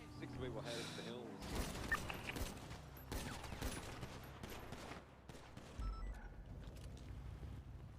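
Rapid bursts of gunfire crackle through a GTA roleplay shootout, volleys overlapping with engine and vehicle noise while voices talk over the action.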